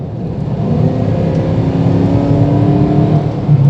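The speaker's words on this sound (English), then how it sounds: "so I'll just give it a little gas." A Porsche Cayenne 4.5 V8 SUV engine is given light throttle, a loud close rumbling rev that holds steady and swells slightly toward the end, with no talking.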